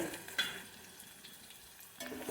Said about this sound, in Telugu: తాలింపు గింజలు మా వేగిన తర్వాత ఈ రెండు వేసాను ఈ రెండు కూడా బాగా వేగాలి